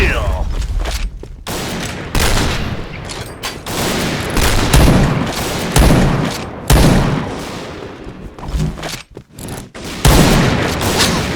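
Rapid bursts of gunfire and booming blasts from a video game, loud and near, in dense clusters with brief pauses between volleys.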